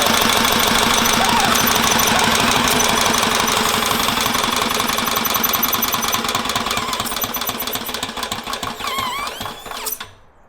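A large military-surplus twin-cylinder engine chugs rapidly and loudly, steady for several seconds, then sputters and cuts out abruptly near the end.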